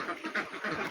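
Ducks from a laying flock of about a hundred quack in a dense, overlapping chorus, close and fairly loud throughout the brief moment with no talk.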